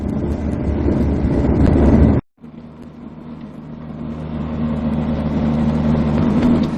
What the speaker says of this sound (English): The A35 maintains a comfortable cruising speed